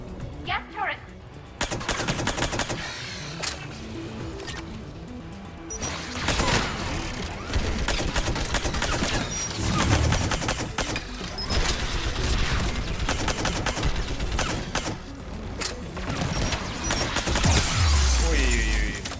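Rapid gas-turret gunfire and combat blasts in the sci-fi shooter game Mass Effect 3, dense bursts of repeated shots with crashes and booms, loud and continuous, with a voice speaking briefly.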